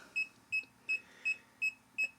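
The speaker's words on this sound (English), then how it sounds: "it gets a little more beeps as I bring the voltage up" Kaiweets voltage pen tester emitting seven short, clear electronic beeps at an even, fairly quick pace, near and moderately loud over a faint low hum, with no talking.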